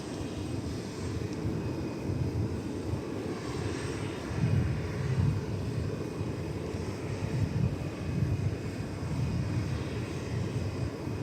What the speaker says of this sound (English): Already we've got a 737